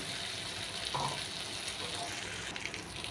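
A fish head fries with spices in a pan for a village-style moong dal, giving off a faint, steady sizzle with soft hissing and no clear individual pops.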